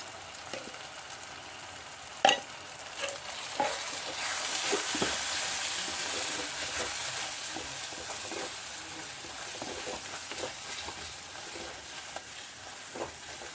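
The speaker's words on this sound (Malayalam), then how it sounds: "നമുക്ക് കുരുമുളക് പൊടി ഇനി കുറച്ച് ഗരം മസാലയിലോട്ടിട്ട് മൂപ്പിച്ചെടുക്കാം" Pepper powder and garam masala roasting in a pan for a Sadhya masala curry, a soft continuous sizzle broken by occasional scrapes and clacks of a stirring spoon.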